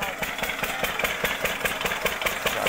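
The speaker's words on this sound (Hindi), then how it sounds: "ये सामने खेत वाटर इंजन चल रहा है" A water pump engine running in a spinach field for irrigation chugs close by in a steady, fast rhythmic beat of regular thumps that continues without pause.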